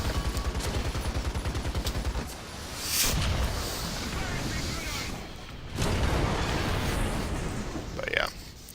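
An M3A1 Stuart tank cannon firing in a video game, two heavy booming shots a few seconds apart with rumbling tails, over a low engine drone.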